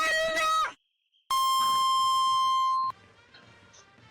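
A starting buzzer at a baseball game sounds as one long, loud, steady electronic tone lasting about a second and a half. Brief beeping comes just before it, and a softer background murmur follows.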